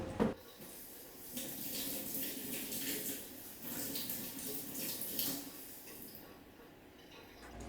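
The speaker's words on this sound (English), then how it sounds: "I've got to wash my hands." Water runs steadily from a kitchen tap while hands are washed during cookie baking, a continuous close splashing hiss with slight shifts in flow and faint clinks beneath it.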